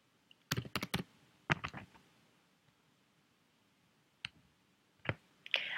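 Typing on a computer keyboard into a search query box: a few quick bursts of close key clicks separated by quiet gaps, with no voice.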